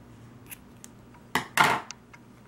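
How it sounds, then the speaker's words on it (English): Scissors snip through yarn during a crochet project for a festive table mat, a few faint clicks followed by two close, crisp cuts in quick succession, quiet room and no talking. "Again, cut the yarn."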